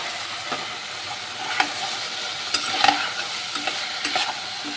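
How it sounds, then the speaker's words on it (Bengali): Potatoes and capsicum sizzle steadily in a pan over medium heat, with a handful of sharp clinks and scrapes from stirring scattered across the hiss. "আর ওদিকে তো আলু ক্যাপসিকাম ভাজতে দিয়ে দিয়েছিলাম"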